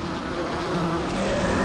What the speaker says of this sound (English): bees. They. It's doing something to the others!